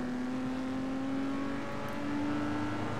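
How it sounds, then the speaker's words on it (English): A car engine in the racing game Test Drive Unlimited 2 holds a steady, sustained drone with a faintly rising pitch, running continuously and fairly loud, with no talk over it. "why is that car just revving its engine so much?"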